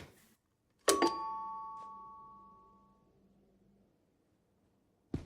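A doorbell rings once, a bright chime that rings out and slowly decays over a few seconds in a quiet room, with a second ring starting at the very end.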